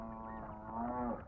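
A buffalo lets out a single long, low moo that swells midway and then cuts off, close and clear against a faint background.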